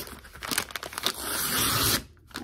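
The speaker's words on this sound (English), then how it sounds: "So let's start tearing." A cardboard-and-paper mailer holding a book proof is torn open by hand, with close, crinkly ripping and crackling that builds into a long continuous tear, then drops to quiet.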